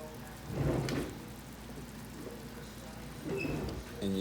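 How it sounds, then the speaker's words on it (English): Roasted chicken and vegetable broth at a hard rolling boil, a steady bubbling wash with a couple of louder surges of churning, close and continuous throughout. "our roasted chicken and vegetable broth is boiling. You want it to come to a hard boil. It's at a rolling boil."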